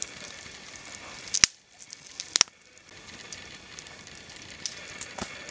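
Food cooking over a campfire gives a soft, steady sizzle and crackle, quiet and close, broken by a few sharp pops, with no talking.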